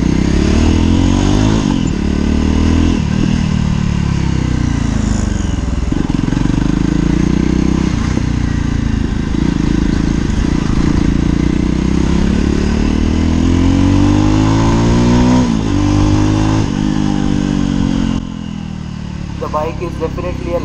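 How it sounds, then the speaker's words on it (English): JAWA Perak Bobber motorcycle engine on a test ride, a loud steady grinding drone with rising and falling revs through gear changes, heard up close throughout. "let's test ride the JAWA Perak Bobber"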